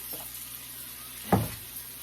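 Hot oil crackles faintly in a frying pan during home baking prep, a low steady sizzle with one brief louder pop or scrape midway.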